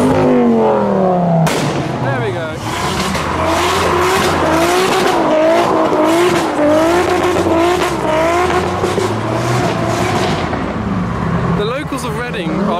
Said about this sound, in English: I'm going to film the chaser.